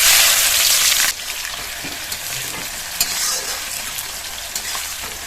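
Chopped onions and whole spices (cinnamon, cardamom, cloves, bay leaf) frying in hot oil for a Bengali duck curry, a loud steady sizzle that drops to a softer crackle, with occasional stirring scrapes and no talking.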